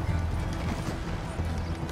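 A horse in Red Dead Redemption 2 gallops with a steady, dense run of hoofbeats close by, loud and continuous under a rumbling background.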